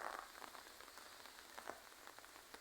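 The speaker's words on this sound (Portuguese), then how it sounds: "Chuvinha aí, galera, chuvinha agora de tarde." Light afternoon rain pattering softly on surfaces, a faint, steady patter of scattered drops with occasional slightly louder taps, quiet and continuous with no voices.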